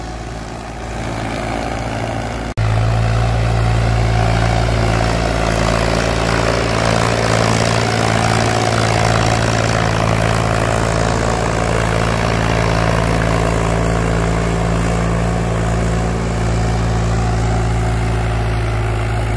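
An Indo Farm 3048 tractor working a wet field produces a continuous, loud, close engine drone that steps up in intensity after a couple of seconds and then holds steady.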